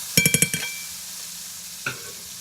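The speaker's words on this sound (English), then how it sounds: "And we let the butter and the garlic combine together." Garlic cooks in melted butter in a pan for honey butter chicken wings: five quick metallic taps of a utensil against the pan, one more later, over a soft, steady sizzle.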